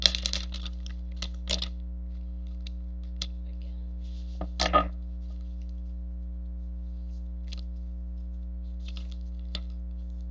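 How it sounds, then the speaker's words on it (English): Oracle cards shuffled by hand in a quiet room, with soft irregular riffling clicks and taps scattered across the clip, a louder burst midway, all over a steady low electrical hum and no talking. "I'm being led to give this a shuffle."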